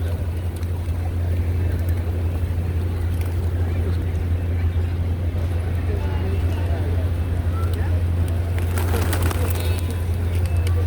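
Pigeons cooing and fluttering as they are fed outdoors, a steady low hum running underneath throughout, with people talking nearby.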